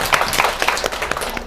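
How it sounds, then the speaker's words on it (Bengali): Students at a school quiz clapping for a correct answer, a brief burst of quick, dense, close hand claps from a small group. "হাততালি হবে"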